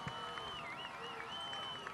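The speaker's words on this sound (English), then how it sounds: "The crowd is trying to get the defense fired up" Home crowd at a 2011 high school football game between Thomas Sumter and Hilton Head Christian Academy, a steady roar of cheering and scattered clapping from the stands to rally the defense, with a whistle-like tone riding over the noise.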